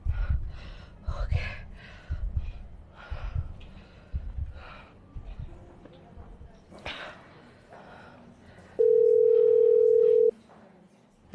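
A steady telephone dial tone rings out alone for about a second and a half after a call is cut, preceded by a voice talking in short bursts.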